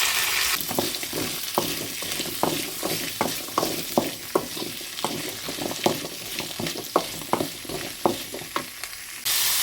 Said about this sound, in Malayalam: അതിന് ശേഷം ഈ അരിഞ്ഞ് വെച്ച് മത്തങ്ങ ഇട്ട് കൊടുക്കുകയാണ് ചെയ്യണത്.